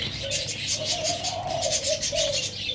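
A young spotted dove chick, around two to three months old, coos in soft, repeated low calls, close and clear over faint background noise.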